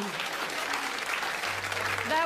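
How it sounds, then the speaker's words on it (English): TV studio audience on a rock music quiz show applauds in a dense, steady wash of clapping, fairly close and filling the short stretch, with a voice starting at the end. "That was a bit more than just a tennis clap out there, Fran."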